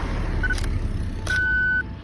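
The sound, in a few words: cars driving past at night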